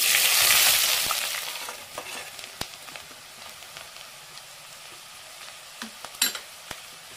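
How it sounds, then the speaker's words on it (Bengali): Chopped onions hit hot oil that already holds a cumin tempering, setting off a loud burst of sizzling that dies down after a second or so into softer crackles, scattered pops and light clinks. "তারপর দিয়ে দেবো চপ করে রাখা পেঁয়াজ।"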